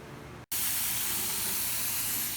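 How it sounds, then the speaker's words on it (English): A spray gun blasts watered-down chalk paint onto a nightstand, a loud, steady broadband hiss that starts abruptly after a brief silence and runs on without a break. "We're spraying our chalk paint on."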